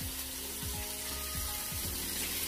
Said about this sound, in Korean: 버터가 고기에 잘 스며들도록 잘 구워주세요